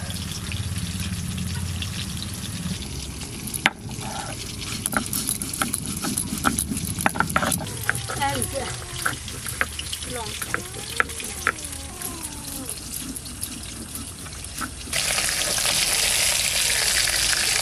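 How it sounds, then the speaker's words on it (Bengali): River fish from the Damodar, urala, frying in oil in a kadai: a steady, close sizzle with crackles and pops running throughout, swelling to a louder, fuller hiss near the end. "মাছ ভাজা হতে হতে মশলা বেটে নেব।"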